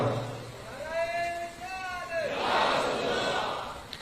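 Crowd at an Eid Milad un Nabi gathering chanting religious slogans, a single voice leading a drawn-out call before many voices answer together in a loud, swelling unison chant.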